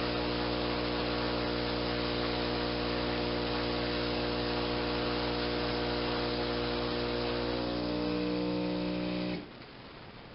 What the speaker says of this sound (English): start the compressor